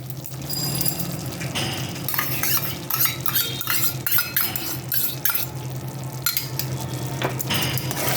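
Whisked yogurt is stirred into a cooked spice masala over low flame for a cauliflower dish, with continuous close scraping and clinking from the spoon over a soft sizzle.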